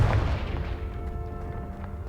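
A Confringo blasting spell explodes in Hogwarts Legacy, a loud boom at the start that decays into a rumbling, ringing tail lasting about two seconds.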